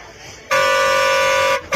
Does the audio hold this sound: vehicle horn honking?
yes